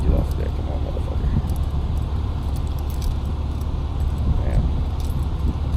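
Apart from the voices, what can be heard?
keys jangling as keys are handed back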